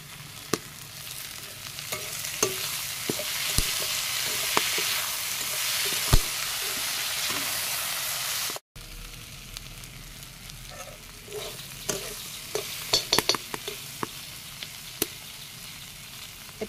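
Chopped spinach, added to potatoes for an Assamese fish-and-mustard dish, sizzles steadily in a hot pan, with light stirring taps throughout and a brief dropout midway.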